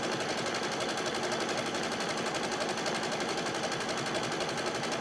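An embroidery machine sews a triple stitch around a quilted basket in the hoop, a fast, steady mechanical chatter at close range, alone without talk.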